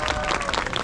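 A short burst of audience clapping, dense and steady, lasting under a second.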